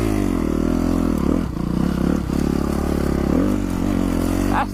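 Dirt bike ridden hard along a woodland trail, its engine loud and close with a steady buzzing drone, brief dips and surges as the throttle changes, and some clatter over the ground.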